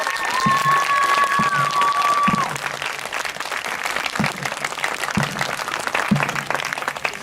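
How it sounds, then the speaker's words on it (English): Sustained audience applause fills a stadium at a high school marching band and color guard home show, a dense steady clapping crowd with a few distant thumps and a faint whistle early on. "How about another round of applause?"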